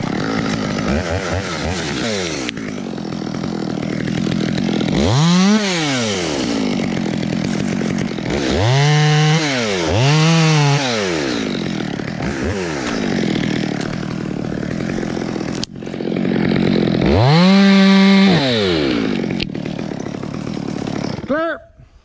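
A chainsaw used for old-school tree removal revs repeatedly, loud and close, with sharp rising and falling engine surges between idling stretches, then cuts off abruptly at the end.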